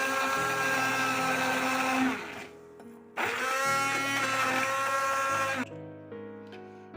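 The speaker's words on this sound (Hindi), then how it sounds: "अब ये इन जो चीज़ों को मैं अब स्टिक ब्लेंडर से ब्लेंड करती हूँ।" A stick blender whirs through shawarma sauce ingredients in a kitchen, two loud sustained motor runs with a brief drop between them, then the motor winds down near the end.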